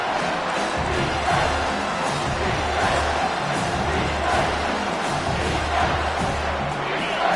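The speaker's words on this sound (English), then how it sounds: "this crowd is tearing the lid off this place" A packed stadium crowd in the College Football 25 video game, Stanford at Washington, giving a continuous loud roar of cheering that fills the whole stretch, with a voice faintly in the mix.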